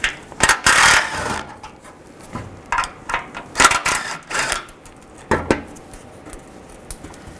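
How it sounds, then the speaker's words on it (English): Bursts of quick metallic ratcheting from a 10mm socket ratchet backing out interior panel bolts on a Nissan Xterra, several short clicking runs separated by pauses, close and alone. "Use a 10mm socket to take those out."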